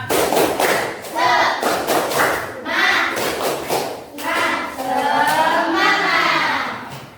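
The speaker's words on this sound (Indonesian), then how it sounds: "mari kita tepuk semangat" Children in a classroom perform the 'tepuk semangat' clapping chant, rhythmic bursts of loud claps and thumps alternating with shouted chanting voices, close and energetic.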